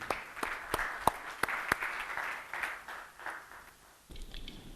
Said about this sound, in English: give a round of applause to welcome Samir to the stage